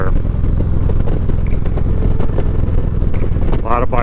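Motorcycles riding on a road near Devil's Tower, a steady loud engine drone with wind buffeting throughout, low harmonic rumble constant, and a brief voice near the end.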